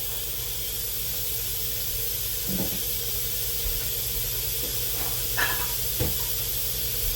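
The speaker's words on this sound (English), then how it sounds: "while that's doing the quick release" Instant Pot pressure cooker on quick release, venting steam in a loud, unbroken hiss with a few faint knocks and clicks scattered underneath.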